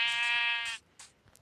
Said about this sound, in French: On va se faire un mouton, les gars.